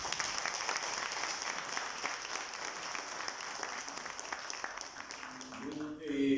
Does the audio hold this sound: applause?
yes